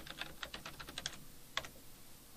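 Quiet, close typing on a computer keyboard: a quick run of light key clicks followed by a pause and one firmer keystroke, with no talking.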